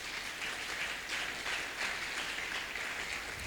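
A church congregation claps steadily together, a dense even wash of applause that holds at a constant level for the whole stretch with no voices standing out.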